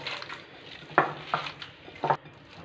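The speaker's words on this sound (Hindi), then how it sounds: "जितना ज़्यादा हम इसे हाथ के साथ मिक्स करेंगे उतनी ही ज़्यादा इसमें चिपचिपाहट लेस पैदा होगी" Soft, wet squelching and slapping as minced chicken is kneaded and mixed by hand for koftas, with a few sharper pats over steady low kitchen noise.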